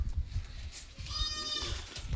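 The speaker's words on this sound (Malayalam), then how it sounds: "ചെറിയ ആടുകളാണ് കേട്ടോ. നല്ല ആടുകൾ." A single nearby goat bleat, wavering and nasal, rising over low background rumble and shuffling.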